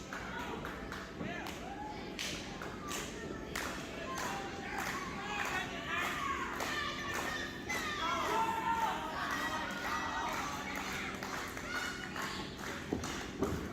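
A steady roar of the crowd at a Championship One Wrestling show fills the arena, with cheers rising and falling throughout as commentators talk over it.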